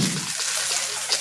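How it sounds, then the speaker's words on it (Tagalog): Water is poured from close by onto fish food pellets in a container, a short splashing, trickling pour that runs steadily for about a second. "Pagkatapos, nilalagyan natin ng tubig."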